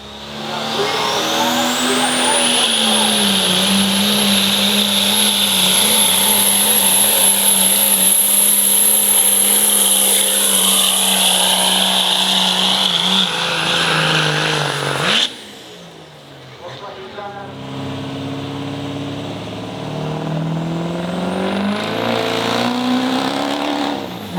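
A Firepunk Hot Street truck at the Plain City truck pulls roars loudly under heavy load, its front axle hopping, engine pitch climbing and holding for a long pull before cutting off abruptly and revving again at a lower pitch.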